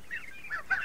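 Geese give a few faint, short honks in quick succession, heard alone and somewhat distant.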